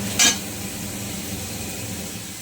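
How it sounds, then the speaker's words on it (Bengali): Spice paste for fish head with taro sizzles softly in a pan, with one brief sharp clink of a utensil near the start and a steady low frying hiss throughout. "এবার মশলাটা কষাই।"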